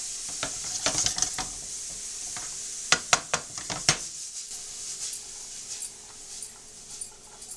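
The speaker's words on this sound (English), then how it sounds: "the sizzle's going, so it's going to be pretty tasty" Vegetables for lasagna sizzle and fry in a pan, a steady hiss broken by sharp clinks and scrapes of stirring, with a cluster of louder knocks midway before the frying settles back to a quieter sizzle.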